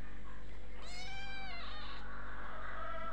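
A small kitten meows in a rising, wavering call followed by softer meowing, close and clear over a steady low background hum.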